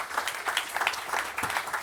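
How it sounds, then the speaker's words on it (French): A conference audience applauds a keynote speaker with a short, even burst of many hands clapping in a hall, moderately loud and continuous, with no speech over it. "On peut l'applaudir"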